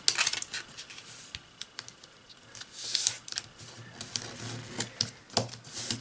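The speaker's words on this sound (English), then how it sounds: "we're going to take this edge and fold it to this crease" A square of origami paper is folded edge to crease for a bat model, giving sharp, close, irregular taps and crisp clicks of paper being pressed and creased, with no talking.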